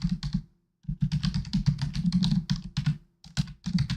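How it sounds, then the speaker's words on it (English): Fast clattering keystrokes on a computer keyboard, close and fairly quiet, tapping in bursts with a short pause near the start and brief breaks later. "I know you can hear me typing on my keys."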